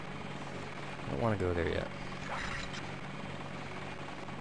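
Helicopter in the Deus Ex video game, a steady rotor hum continuing throughout beneath a man's brief speech.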